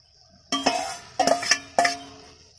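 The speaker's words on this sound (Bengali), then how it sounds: "এবার এর মধ্যে ভেজে রাখা ফুলকপিটা দেওয়া হচ্ছে" Fried cauliflower is tipped into a pan of cooked vegetables with Bengali jhal spices and stirred, giving three distinct bursts of utensil scraping and clinking against the pan, close and fairly loud, with quiet pauses between.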